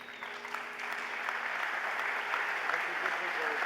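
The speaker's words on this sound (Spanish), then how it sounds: "El aplauso es para ellos." Steady applause from a crowd at a discussion gathering in Mexico fills the room, dense and continuous throughout, with a faint voice briefly audible beneath it.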